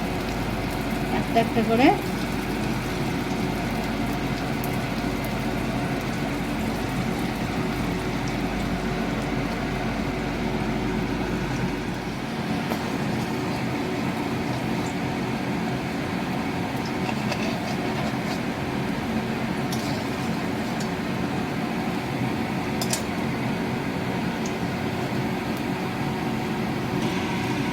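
Homemade French fries sizzle in hot oil with a steady, dense crackling hiss that fills the whole stretch, while someone speaks briefly near the start.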